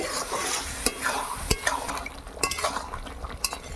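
Beef being stirred with salt in a frying pan, a steady sizzle under repeated scraping and clinking strokes of a utensil against the pan, close and fairly loud, with no talking.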